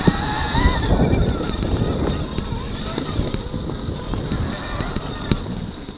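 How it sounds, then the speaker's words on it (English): Tire noise from a Stark Varg electric dirt bike ridden slowly on a woodland trail, a continuous rumbling crunch with occasional knocks, up close with no engine sound. "It gets you in the woods on this bike is tire noise."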